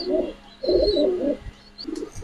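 Purebred racing pigeons at a farm loft in Mirpur coo in several close, soft throaty bursts, with faint higher chirps between them.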